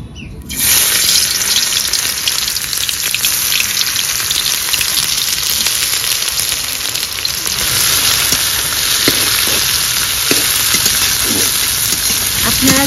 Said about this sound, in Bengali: প্রথমেই তেলে ছেড়ে দেব পেঁয়াজ